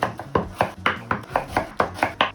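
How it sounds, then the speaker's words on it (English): A knife chops celery into small pieces on a board, about ten quick, evenly spaced thuds close up with nothing else around them. "trim off the outer layer because it looks kind of sketchy, and chop it into smaller pieces"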